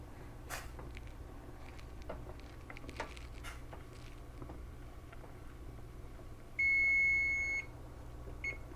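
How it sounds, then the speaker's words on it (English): A kitchen timer going off while honeysuckle tea simmers, a single steady electronic beep tone lasting about a second, clear over a quiet background of faint kitchen noise. "timer."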